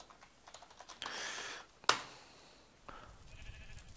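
Keyboard typing a command into a RuneCraft game, a run of light key clatter with a sharper burst, quiet and close.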